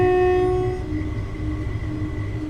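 A Class 170 diesel unit running in Train Simulator on the Peterborough to Cambridge route. A low rumbling engine drone carries a steady two-tone horn blast for the first second, then the drone continues alone.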